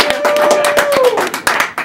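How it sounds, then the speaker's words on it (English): Scattered clapping from people at a school sports announcement, uneven and sharp claps with a tonal sound sliding underneath, moderately loud. "Oh, everyone clap, please"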